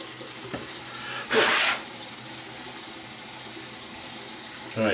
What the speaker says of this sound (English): So let me rinse the razor.